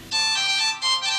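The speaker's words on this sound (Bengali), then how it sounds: "phone phone phone" A telephone ringtone plays loud and close in a home scene from a Bengali TV serial, a bright electronic melody that dips briefly and resumes, with no talking over it.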